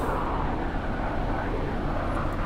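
A virtual truck in BeamNG.drive roars with a broad, steady jet-like engine and turbo whoosh, loud and constant with no break in tone.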